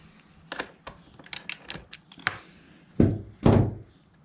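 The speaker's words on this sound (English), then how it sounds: "the last step should just be unbolting the 4 screws at the bottom" Screws being backed out of the gas tank on a Honda XR80R dirt bike, heard as a series of close, sharp metallic clicks and ticks with a few heavier thunks of tools and parts toward the end, no talking.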